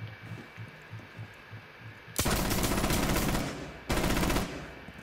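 Two loud, dense bursts of automatic gunfire from a video game, the first about two seconds long and the second shorter, after a stretch of quieter in-game ambience with a low, pulsing thump.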